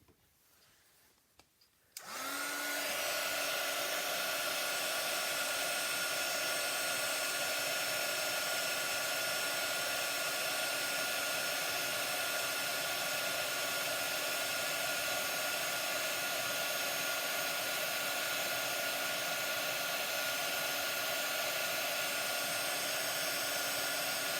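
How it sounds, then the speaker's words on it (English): A craft heat tool blasts hot air to set embossing powder, switching on after about two seconds into a loud, steady, high-pitched blowing whine that runs unbroken to the end, close and alone. "I'm going to use my heat tool to set that."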